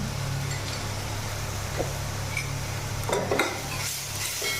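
Spices stirred into warm water are poured into a hot pan while cooking a shrimp biryani, giving a steady, close sizzle that lasts throughout, with a few faint clinks of utensils and no voices.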